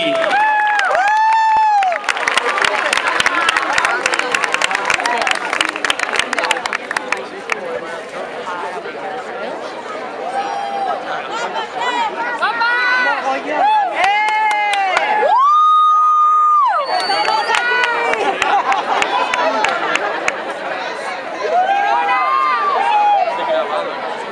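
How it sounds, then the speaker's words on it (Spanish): Audience cheering and applause ring out for a funk dance group at a street fair, a loud sustained crowd roar with whoops and shouts, loud music carrying on throughout. "Así que un fuerte aplauso para ellos,"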